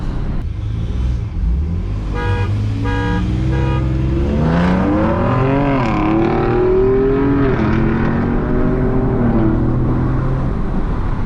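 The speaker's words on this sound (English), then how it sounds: "Man, do you hear his downshifts right there?" Ford Raptor pickup trucks drag racing, one upgraded and one stock, with a loud engine roar climbing in pitch and then dropping sharply through repeated downshifts, then revving hard again, up close and continuous.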